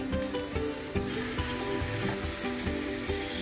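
Chopped spring onions fry in hot oil for a tomato curry, giving a continuous bright sizzle with regular scraping strokes of a spoon stirring through the pan.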